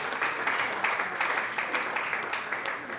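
A church congregation at a Pentecostal service applauds steadily, a dense wash of many hands clapping at once, sustained at an even level for a few seconds.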